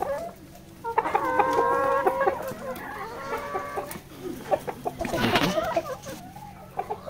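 Layer and native chickens on a poultry farm cluck steadily and loudly, with overlapping calls and a brief louder squawk burst partway through, close by.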